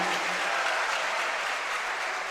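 Steady, dense applause from a church congregation, loud and continuous throughout a short burst with no pause.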